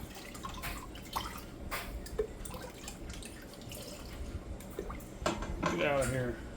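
Key lime pie moonshine poured into jars, close by: a continuous splashing trickle of liquid with occasional clinks of glass, rising into a fuller gurgle near the end, with a person talking over it.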